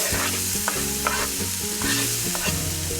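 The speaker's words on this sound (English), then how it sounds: "I can add 1 onion chopped and some celery. And I'm going to saute the vegetables for about 3 minutes" Chopped onion and celery sautéing in melted butter, a steady close sizzle broken by repeated scraping stirs of a spoon against the pan.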